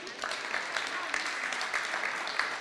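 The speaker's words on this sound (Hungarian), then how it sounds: "szeretnék egy tapsot kérni Fodor Csengének" Applause rises for a young handball player at a handball coaching conference, a steady wash of clapping with individual sharp claps standing out throughout, moderately loud and continuous.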